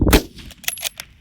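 A sharp metallic clack sounds at once, followed by a few lighter metal clicks as the magazine cutoff on a 1912 SMLE .303 rifle is flicked open, close and crisp.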